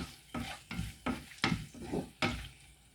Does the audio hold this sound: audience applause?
no